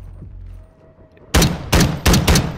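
Battle royale gunfire: after near silence, a loud volley of rapid shots breaks out in three or four closely spaced bursts, sharp and nearby.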